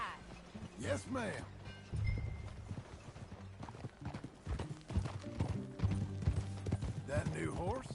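Horse hooves clip-clopping at a walk in Red Dead Redemption 2, a steady rhythmic clatter with tack jingling, close by under conversation between riders.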